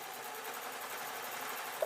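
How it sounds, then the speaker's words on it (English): Close, steady whirring of a sewing machine running continuously as it stitches two pieces of fabric placed right side to right side for a desk tidy, with no breaks over two seconds. "place it under the machine and let the machine sew it"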